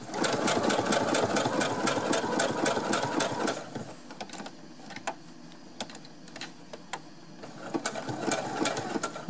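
A sewing machine zigzag-stitches around the edges of cotton newborn mittens, running in fast steady bursts with a brief slower stretch midway where the work is turned, then speeding up again.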